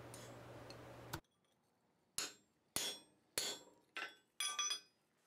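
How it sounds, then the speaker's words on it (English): Hammer blows on forged steel bars resting on an anvil, splitting them while making a leather punch: a loud steady ringing passage, then six sharp separate strikes in an uneven rhythm, each with a short metallic decay, with no talk. "So now I need to split the bars so it can wrap around the cylinder that I just made."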